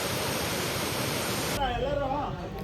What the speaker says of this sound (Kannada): ಗೈಸ್, ಇದೇ ಫಾಲ್ಸ್, ಬಟ್ ಚಿಕ್ಕ ಫಾಲ್ಸ್ ಇದೆ